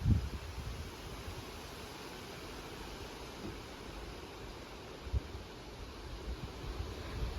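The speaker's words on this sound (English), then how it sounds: "Let me show you the beautiful wind." Steady broadband wind rushes through a UK container garden in summer, with leaves rustling and low buffeting gusts hitting the microphone throughout, and no voices.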